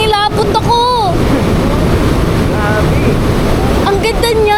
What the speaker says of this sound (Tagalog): Ito nga ang Maria Cristina Falls.